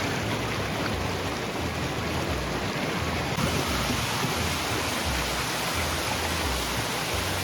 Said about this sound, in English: Standing right here in the middle of the waterfall.